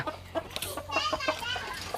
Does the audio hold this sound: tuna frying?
no